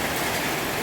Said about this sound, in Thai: นี่ครับบรรยากาศสดๆนะครับฝนตกบ้านเราพี่น้องนะครับ